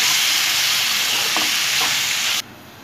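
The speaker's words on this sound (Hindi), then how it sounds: "अब मैं इस वक्त डालूंगी टमाटर। टमाटर को नरम होते तक मैं पकने दूंगी" Tomatoes sizzle with potatoes in a pan over low heat, a loud, continuous close-up frying hiss with faint stirring scrapes, which cuts off sharply near the end.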